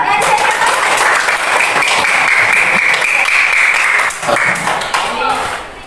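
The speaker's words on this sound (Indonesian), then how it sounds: "Tepuk tangan dulu." Loud, sustained applause from a classroom of students, dense steady clapping that tapers slightly near the end, with voices mixed in.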